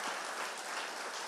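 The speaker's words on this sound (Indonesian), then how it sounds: "Tepuk tangan bagi Allah kita." At a Sunday church service, a congregation claps in a soft, distant, continuous patter, a brief burst of even applause with no talk over it.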